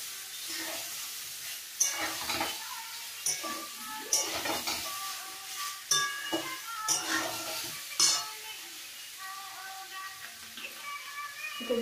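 Potatoes, capsicum and tomato stir-frying in a pan. A ladle scrapes and clinks against the metal pan in repeated strokes while a soft sizzle continues underneath.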